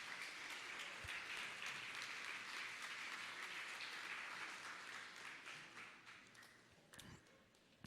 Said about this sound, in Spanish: Vamos a ponernos de pie y darle un gran aplauso al Señor.